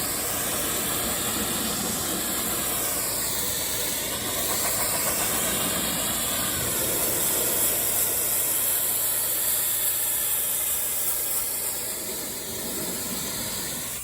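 Pressure washer fitted with a low-pressure soaper tip rinsing a painted surface, giving a steady, loud hiss of spraying water under a constant motor drone, continuous throughout with no talk.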